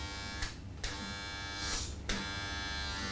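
A cordless hair clipper runs with a steady, close electric buzz, broken by a few brief scraping bursts as it moves, and no voices over it.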